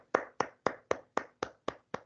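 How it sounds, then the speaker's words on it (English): Applause for a participant at a group discussion session: eight sharp, close claps in a steady, even rhythm, sounding like one or a few pairs of hands rather than a full crowd. "Can we have a round of applause for Jatin Sahu, please?"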